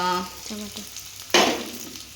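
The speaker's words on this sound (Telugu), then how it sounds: "ఆనియన్ వేసిన తర్వాత మిర్చి వేసుకొని మంచిగా జస్ట్ ఒక టూ మినిట్స్ కలుపుకోవాలి" Onion and green chilli stir-fried in a pan, a brief sizzle with a short tonal squeak early on, then a louder burst of frying hiss and scraping near the end, close and short.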